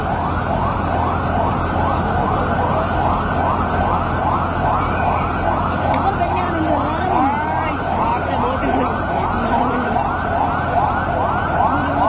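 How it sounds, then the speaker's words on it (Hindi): An ambulance siren heading to Civil Hospital in Karachi wails in a steady, continuous warble, loud and near, over street noise and background voices. "ये एम्बुलेंस सिविल हॉस्पिटल लेके जा रही है।"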